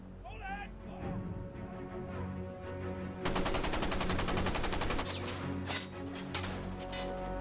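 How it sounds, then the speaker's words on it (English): Rapid bursts of machine-gun fire rattle out at a surfaced German U-boat in World War II over a busy rumbling background, with a long rattling volley in the middle and shorter cracks after. "emerges to a hail of enemy gunfire"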